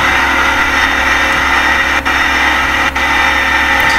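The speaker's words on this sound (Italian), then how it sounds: "Ora se no dobbiamo scendere un po', tolgo il motore." An Aeroprakt A-22 light aircraft engine, throttled back in flight between Hrytsenkove and Sudzha airfields, gives a loud, steady, unbroken drone with a constant hum and two tiny dips in level.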